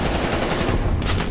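Rapid automatic gunfire from the video game Black Ops Cold War, a dense continuous burst of shots filling the short moment, loud and close with no talk over it.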